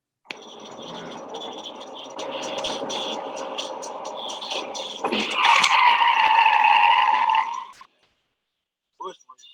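A car skids with a long tire squeal that swells into a harsh, loud screech before cutting off abruptly, followed by a few faint knocks, heard in footage shown during an occupant safety presentation.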